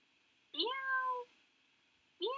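A person imitates a cat's meow during a festive cat-themed storytime, giving one drawn-out meow followed by the start of a second, clear and close with no other talk.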